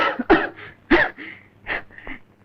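A short run of five or six harsh, close coughs in an old Malayalam film scene. The bursts come in an uneven rhythm with brief pauses between them.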